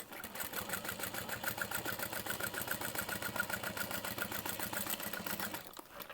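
Sewing machine stitching a bag lining, a steady fast mechanical chatter running continuously and loud before slowing and stopping at the very end.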